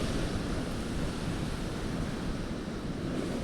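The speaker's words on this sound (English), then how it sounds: "You can just hear the waves just crashing against some of these break walls here in the town of Greece." Storm-driven waves crash against breakwalls along the shore in Greece, New York, a steady, dense roar of surf churning without pause, with wind buffeting the microphone throughout and no voices.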